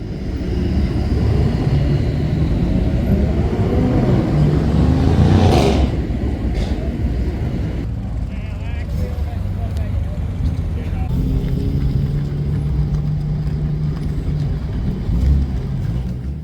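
Mercedes car engines rumble and rev nearby as vehicles pull away at a German car show in Perth, Australia, one sharp pass standing out, with steady motor drone throughout.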